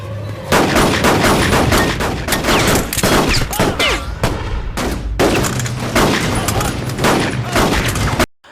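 Loud, dense gunfire with rapid bursts and booming shots, a chaotic film-style firefight with brief pauses, a voice faintly under the barrage.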